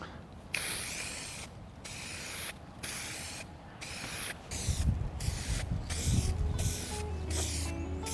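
A coating is sprayed onto a griddle from about 25 centimetres away in a series of roughly eight sharp hissing bursts with brief pauses, a low mechanical hum joining partway through.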